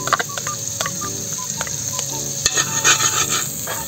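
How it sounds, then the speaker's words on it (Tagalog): Margarine melting and sizzling in a pan while cooking native chicken red adobo, with steady frying hiss, faint stirring and light clinks of utensil against metal. "Umpisa tayo mga idol sa margarine. Lulusawin lang natin yan."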